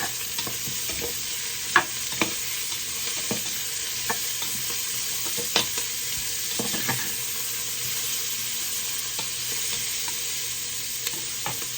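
Beetroot sizzles in a clay pot with sautéed onions, a constant frying hiss punctuated by regular scraping and knocking strokes of a stirring spoon, close and clear with no voice.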